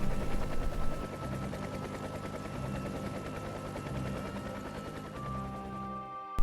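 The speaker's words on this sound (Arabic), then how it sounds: "وواحد هليكوبتر حربيه قديمه" An old military helicopter thumps with a rapid, rattling rotor chop that almost sounds like machine-gun fire, loud and continuous for several seconds before cutting off abruptly.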